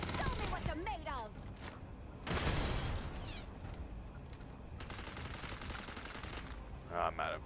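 Turret gunfire in the sci-fi video game Starfield crackles in fast, repeated bursts over a constant noisy background, with a heavier blast partway through and voices speaking between the shots.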